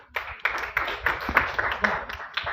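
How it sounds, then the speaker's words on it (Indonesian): A class applauds a group of students with a close, uneven run of clapping bursts that keeps going for a couple of seconds. "sebelumnya kita berikan aplaus kepada kelompok ini"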